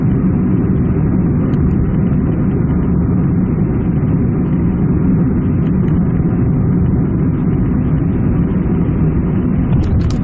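A car engine drones steadily and loudly while driving on a road with a 70 km/h limit, a constant low rumble of engine and road noise that holds for the whole stretch, with no talking.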